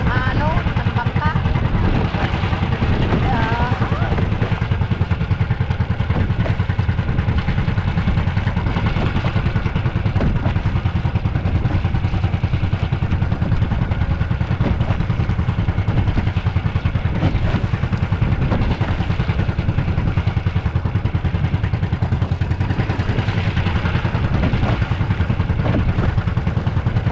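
A fishing boat engine drones loudly and continuously with rattling, clattering hull vibration throughout, while voices talk intermittently over the din.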